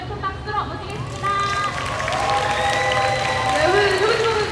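An audience applauds to welcome a second-year instructor who lectured that afternoon, loud, continuous clapping that grows fuller partway through, mixed with cheering shouts and whoops from the crowd.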